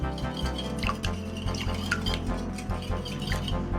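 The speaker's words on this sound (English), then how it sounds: "you just wanna whisk this together so you can mix it in" Coconut oil mixture whisked briskly in a bowl, with a quick run of light metallic taps and scrapes against the bowl over a low steady background hum.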